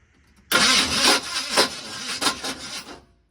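An old Chevrolet squarebody truck engine cranks and fires after a new solenoid install, bursting into a loud, rough, raspy run for a few seconds before cutting out.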